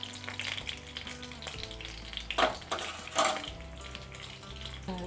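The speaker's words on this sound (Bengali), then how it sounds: "লো ফ্লেমেই ভাজতে হবে হ্যাঁ, পুরোটা।" Fish roe fries with bottle gourd leaves in a pan over a low flame, a steady close sizzle broken by a few louder stirring scrapes and clinks.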